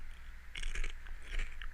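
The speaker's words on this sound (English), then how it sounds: "I'm chewing on a chip for those of you that are wondering." Someone chews on a chip up close, with two distinct bursts of crunchy bites over a faint steady background hum.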